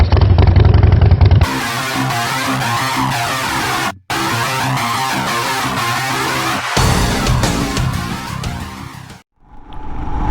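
Royal Enfield Himalayan adventure motorcycle out on a ride, its engine droning loud and steady with wind rush and shifting revs, a brief cut near the middle and a drop in level near the end.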